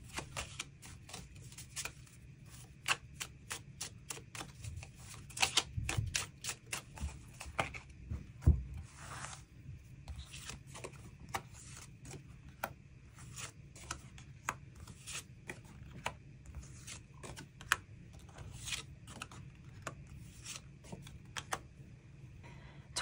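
Tarot cards being shuffled to draw extra cards, faint close riffling and soft tapping clicks scattered steadily throughout against a quiet background, with no talking.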